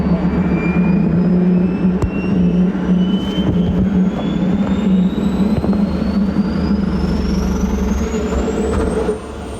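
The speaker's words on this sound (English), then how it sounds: "ignites the engines, closes the canopy, and begins our taxi" The engines of a fighter jet run as it taxis, heard from the cockpit as a loud, steady roar. A turbine whine climbs slowly in pitch, and the level drops slightly at the very end.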